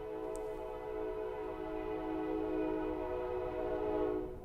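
A LEGO toy train gives off a sustained, horn-like tonal drone that holds steady for about four seconds before cutting off, fairly loud and close, with no talking.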